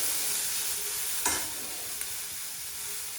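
Tomatoes being lightly sautéed in a pan while making veg poha, a steady soft sizzle throughout with a single clink of a stirring spoon partway through, no talking.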